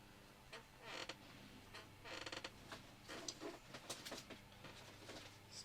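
A wooden drawer creaks as it is pulled open among colouring supplies, with several short squeaky bursts and light rummaging clatter close by, no talking.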